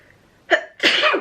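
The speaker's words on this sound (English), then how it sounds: "I'm going to sneeze." A single sharp sneeze, close and loud, with a brief sharp intake just before it.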